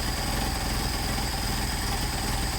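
A Mercedes 190SL engine with Solex 44PHH carburetors idles at low RPM, a steady, smooth, close mechanical rumble with a constant hiss and no change in pace.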